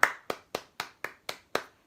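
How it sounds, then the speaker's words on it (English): Seven even hand claps in a steady quick rhythm, close and clear, with no talking; the clapping is meant as children's clapping. "Let's give ourselves a little clap."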